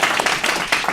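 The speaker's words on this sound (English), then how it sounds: "if we can give Mr. Humphrey a round of applause" A brief burst of clapping comes from an audience at a school board meeting, a continuous patter of many hands lasting about a second.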